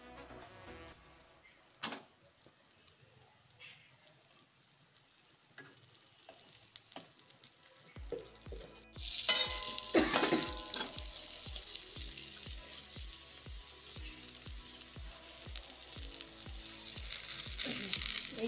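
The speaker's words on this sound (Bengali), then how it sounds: "এইভাবে ভেজে নেওয়া হচ্ছে" Rolled dough dropped into hot oil: after a quiet stretch of faint knocks, a bright bubbling sizzle bursts in and keeps going, with a steady ticking rhythm underneath, close and moderately loud, no speech.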